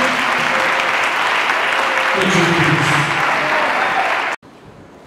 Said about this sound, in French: Applaudissez fort Jésus